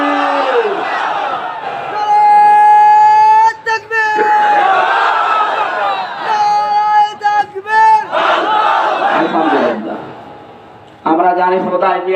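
At a Bangladeshi Islamic sermon gathering, a massive crowd thunders the takbir in call-and-response bursts, several loud sustained shouts in sequence with short gaps, the last one cutting in abruptly after a pause.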